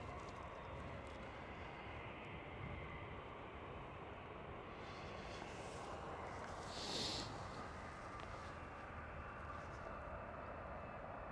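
A jet airliner engine spools up at Schiphol airport, Amsterdam, a broad steady roar heard from a distance with a brief whine swelling midway, no voices.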